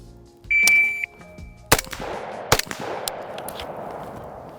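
A shot timer gives one steady electronic start beep at a shooting range, followed by two loud, sharp rifle shots from an ACOG-equipped rifle in quick succession, each ringing out briefly.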